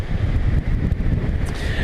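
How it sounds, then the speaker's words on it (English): Strong wind of about 15 mph, gusting higher, buffets the microphone on a beach, a continuous loud roar with faint surf underneath. "I'd say the wind's probably about 15 mile an hour wind, maybe gust 20."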